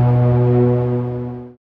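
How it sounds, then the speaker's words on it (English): A steam-powered foghorn, forcing compressed steam out of a long pipe, gives one loud, steady low whistling blast that holds for about a second and a half, then stops abruptly. "the world's first steam-powered foghorn"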